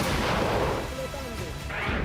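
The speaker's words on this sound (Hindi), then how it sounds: "फिर अगले कुछ ही पलों में एक के बाद एक कई धमाके होते दिख रहे हैं।" Several explosions in succession after US fighter jets take off, a dense loud booming roar with heavy rumbling bursts, voices faintly mixed in beneath.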